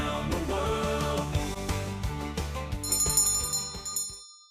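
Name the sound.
bells added to a podcast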